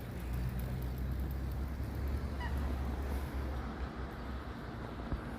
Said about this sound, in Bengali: দুই তিন প্রজাতির হাঁস একসাথে।